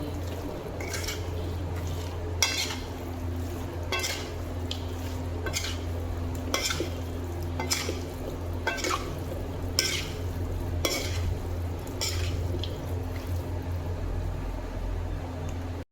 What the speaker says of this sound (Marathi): हा आयटम आपण व्यवस्थित इथे मिक्स करून घेणार आहोत